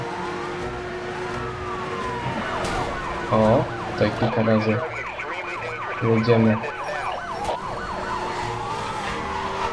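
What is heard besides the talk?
police car sirens in Hot Pursuit racing video game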